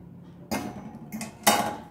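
A black enamelled frying pan for frying clatters as it is handled, with a few sharp metallic knocks and scrapes against a quiet background.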